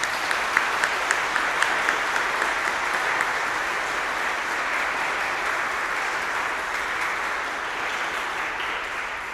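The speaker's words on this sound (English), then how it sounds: "Let's give them all a big round of applause." An audience at an organ recital claps steadily, a dense sustained wave of applause that holds evenly before gradually easing.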